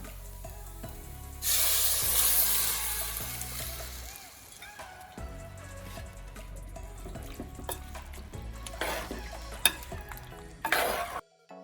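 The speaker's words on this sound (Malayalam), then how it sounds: "മസാലയൊക്കെ ചേർത്ത് മട്ടണും ചേർത്ത് നമ്മൾ ഇളക്കി കൊടുത്തിട്ടുണ്ട്" Cooked mutton being stirred into fried masala in a pot for a chatti curry: a loud burst of sizzling and scraping early on, then softer stirring and clatter, with background music throughout.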